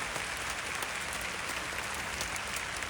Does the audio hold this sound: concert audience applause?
yes